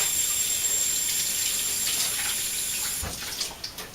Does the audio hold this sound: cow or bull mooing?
no